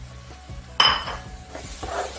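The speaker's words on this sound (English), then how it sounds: "and stir, and I'll also allow it to fry for another 5 minutes" A spoon stirs blended egusi into fried peppers in a pot, scraping and clinking against the metal with a soft sizzle underneath, a few short strokes close up and no voices.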